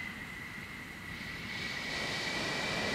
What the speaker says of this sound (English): I hear engines spooling up.